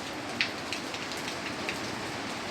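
Steady rain pattering on champaka (sampangi) plants in a garden, a continuous soft hiss with a few brief louder drops, no voices.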